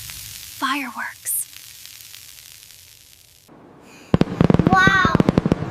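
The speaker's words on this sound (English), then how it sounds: "Fireworks." Fireworks bursting at a New Year celebration, a rapid string of sharp crackling pops that starts suddenly and keeps going loud, following a few short voiced exclamations and a quiet stretch.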